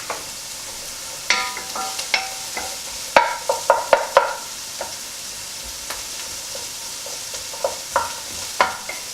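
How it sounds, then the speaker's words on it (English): Extra lean mince browning in a pan while being stirred, with a soft steady sizzle beneath a series of scraping, clicking stirring knocks that cluster in the middle and recur sparsely; no talking. "Just keep stirring around so they don't stick to the pan."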